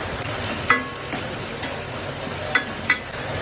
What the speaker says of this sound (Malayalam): കുറച്ച് ഉള്ളി ഇട്ട് നന്നായിട്ടൊന്ന് വാട്ടിയെടുക്കുക